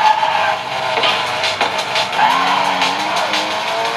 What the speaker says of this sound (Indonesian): Kita coba tes drift, walaupun aku nggak pandai ngedrift.